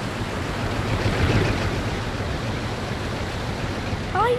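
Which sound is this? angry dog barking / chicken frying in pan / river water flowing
river water flowing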